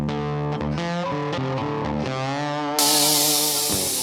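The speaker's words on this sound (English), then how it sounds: "So there was a lot of pressure spraying." A pressure washer sprays around a homestead porch and washing line, a loud, steady hiss bursting in after a stretch of tonal music and continuing to the end.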